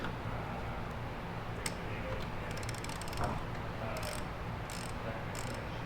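A ratchet loosens the oil drain plug on a Janus Halcyon 450 motorcycle, with a few quick clicking bursts over a low, steady background hum.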